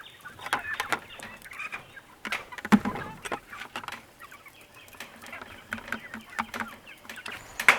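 A backyard layer flock of laying hens, including Rhode Island Reds, Americanas, Easter Eggers and Black Sex Links, clucks and murmurs nearby on a homestead, with intermittent short calls and soft scratching, moderately quiet.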